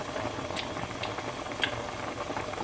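Pork adobo broth boils in a pot, a steady low bubbling simmer with faint pops and patter, close and fairly quiet.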